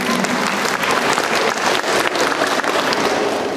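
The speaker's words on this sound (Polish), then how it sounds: "Brawa wielkie dla naszych gości." Applause from an audience welcoming guests at a carol concert in Zabiele, Poland, steady and dense clapping close to the microphone, lasting a few seconds without pause.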